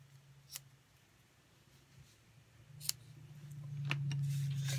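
Scissors trimming ribbon ends on a handmade card: a few faint, crisp snips spaced apart in a quiet room, with a low steady hum underneath.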